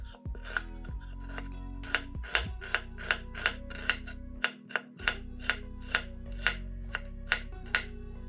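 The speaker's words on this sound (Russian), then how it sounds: "Половину луковицы нарезаем мелкими кубиками." Half an onion being diced into small cubes with a knife on a cutting board: a steady run of crisp, evenly spaced chopping taps, close and clear, with no one talking.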